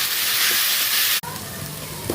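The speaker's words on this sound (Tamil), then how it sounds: "இஞ்சி பூண்டு பேஸ்ட்டு போட்டாச்சு. இப்போ நல்லா கிண்டி விட்டுக்கலாம்." Ginger garlic paste sizzling in hot oil in a pan while being stirred for chicken biryani, a steady loud hiss with a brief break midway, close up and without speech.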